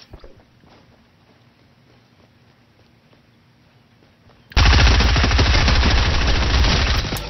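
Gunfire from the Fortnite video game: after several seconds of near quiet, a loud, dense burst of rapid shots erupts and keeps firing without pause to the end, close and harsh, with no voices.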